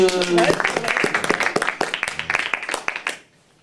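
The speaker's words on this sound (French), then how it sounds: "c'est pas interdit de m'applaudir" An audience at an open-stage show claps for a performer, with a burst of close, uneven hand claps that thins out and stops, with a brief voice at the start.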